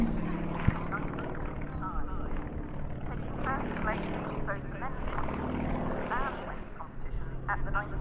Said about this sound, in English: as he pulls up into the vertical again and tumbles the aircraft through all of its axes